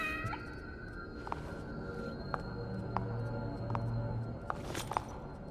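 A cat meows in The Evil Within: The Consequence, with several sharp, distinct meows spaced out over a low background hum and no talk.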